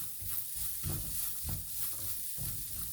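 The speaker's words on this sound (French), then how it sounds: "Ils vont continuer à rissoler tranquillement." Cauliflower and finely grated carrots sizzling in a pan with spices, a close steady fry hiss broken by several scraping stirs, no talk.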